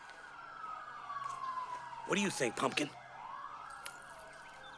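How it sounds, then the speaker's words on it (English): A wailing siren sweeps down and back up in pitch, fairly distant, while a voice speaks briefly in the middle. "I can't think with all these sirens."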